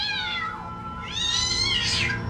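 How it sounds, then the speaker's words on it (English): A cat lets out drawn-out, wavering death cries and yowls in a horror film, loud and close over a steady low background hum, with no voices. "Playing back the death cries of that cat you murdered?"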